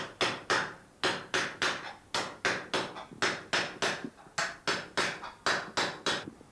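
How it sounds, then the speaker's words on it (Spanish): A steel hammer strikes sheet metal laid on a steel die while a craftsman shapes a stovetop kettle, giving sharp metallic blows in steady rhythmic pairs and runs of about twenty hits, close and distinct with no talking. "estábamos trabajando con un martillo de acero sobre una matriz de acero"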